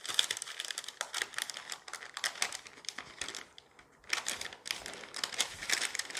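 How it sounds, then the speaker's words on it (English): Parchment paper being slowly peeled away from thin keto fathead pizza dough, giving close, dry crinkling and crackling in steady bursts with a short quieter pause partway through. "Then I'm going to peel it off the parchment paper"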